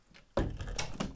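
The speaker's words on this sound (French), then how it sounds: "Je vais fermer la fenêtre" A window being shut indoors: a sudden solid thump, followed by a few sliding, rattling knocks as it settles, close by with no talking.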